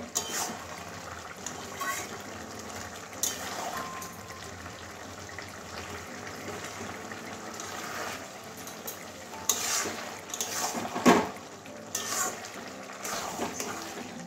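Spinach and rohu fish head cooking in a pot, stirred with irregular scraping and soft wet sloshing over a gentle sizzle, with a louder burst of stirring toward the end.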